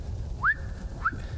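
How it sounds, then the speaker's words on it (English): A person whistles two short rising notes, the first longer and stronger, the second briefer, during a disc golf match outdoors, over faint background noise. "You so gotta stop the whistle thing"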